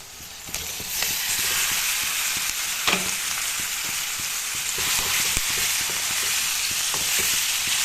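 Chicken frying in hot oil while being stirred, a loud continuous sizzle close by with repeated spatula scrapes and clicks against the pan, no one talking.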